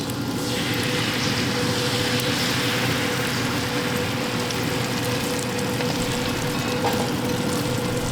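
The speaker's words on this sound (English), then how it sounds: "We're just going to add our eggs to this with a little cheese." Six large eggs with a little cheese fry in bacon grease on the griddle of a Yoder YS640S pellet smoker, giving a steady, dense sizzle close up over a low mechanical hum.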